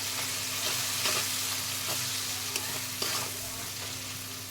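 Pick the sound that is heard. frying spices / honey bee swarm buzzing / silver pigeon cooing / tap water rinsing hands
frying spices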